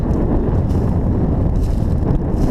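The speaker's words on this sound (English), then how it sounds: "It's a little windy, and I apologize for that." Wind buffets the microphone with low, rumbling gusts that swell and fade, loud and continuous, in a forest bordering the Mississinewa River.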